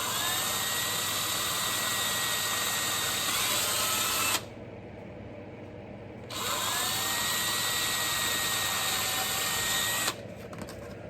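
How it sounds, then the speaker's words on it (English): A small electric drill bores switch holes in a tin toy car, whining steadily at close range with two cut-off pauses between runs. "Just drilling the 2 switch holes here"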